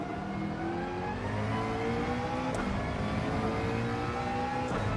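Race car in Gran Turismo 7 at the Sardegna circuit, engine revving up and down through gear changes under braking and acceleration, steady and moderately loud with no talk.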